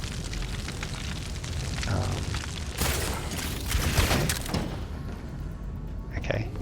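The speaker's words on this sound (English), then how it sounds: "those pistons must have blocked that grenade" A grenade explodes in the video game Meet Your Maker, a muffled rumbling boom amid dense game noise, with a voice talking over it.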